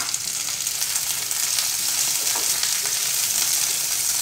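Large chunks of chopped capsicum (shimla mirch) hit a hot pan for idli manchurian, giving a steady, close, loud sizzle with faint stirring scrapes and no talk.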